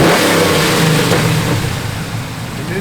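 Engine of a 1971 Chevrolet C10 pickup truck roars close and loud, a thick sustained rumble that eases off slightly toward the end; no talking over it.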